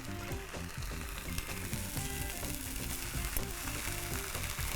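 Steady, dense sizzling of marinated mushrooms cooking on a hot grill, loud and close, with faint clinks and no talking.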